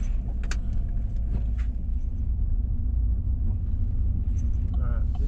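A car drives through Camp Wood, Texas, its low engine and road rumble steady and close throughout, with a few light rattles from inside the cabin.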